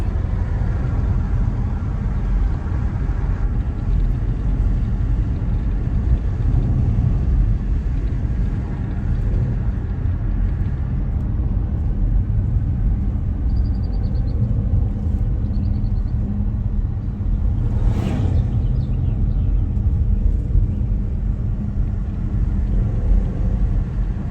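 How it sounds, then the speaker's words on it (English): Steady low engine rumble with exhaust drone from inside a moving car at a car meet, heavy wind and road noise throughout, no talking. "Hey, listen to my car."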